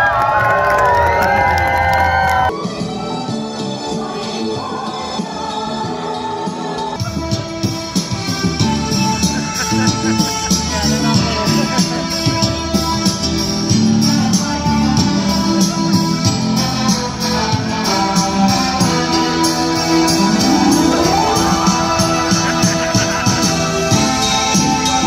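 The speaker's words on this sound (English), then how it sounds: "So if y'all want to see them, y'all got to give Hambone some noise." A crowd at a rodeo pig show cheers, whoops and shouts with children's voices in the mix, a loud sustained roar of noise over music-like tones that runs steadily for the whole stretch.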